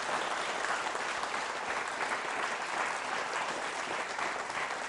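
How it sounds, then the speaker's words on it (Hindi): A school audience at a quiz show claps for a teacher, a thick, even roar of applause from many hands filling the whole stretch without pause. "तालियां बजाइए मैम के लिए और आप सभी के लिए"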